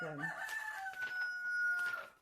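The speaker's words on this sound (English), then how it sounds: "you can hear our rooster at work crowing" A rooster lets out one long crow, rising and then holding a drawn-out note before it tails off. It is fairly faint, as if from a short distance, with no talking over it.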